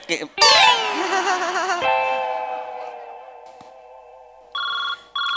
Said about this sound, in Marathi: उचलायचा, बायको फोन उचल.